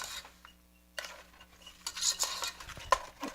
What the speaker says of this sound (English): So use a spoon on stirring it.